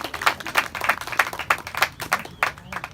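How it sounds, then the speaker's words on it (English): Crowd at the Embassy Cup 2017 football event claps for the volunteers, a steady run of roughly ten evenly spaced, sharp claps at a brisk rhythm, fairly close and loud. "So a huge round of applause, I think, for all the volunteers here today."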